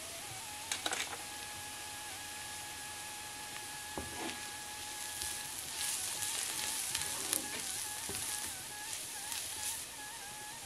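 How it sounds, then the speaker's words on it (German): Ginger, garlic and spice powders (turmeric, chili, coriander) with salt fry in a pan for a vegan mushroom-pepper curry, giving a steady close sizzle with a few small pops and scrapes and no talking. "Dann kommt Ingwer-Knoblauch rein und einige Gewürzpulver auch, Kurkuma-Pulver, Chili-Pulver, Korianderpulver und Salz hinzufügen und kurz anbraten."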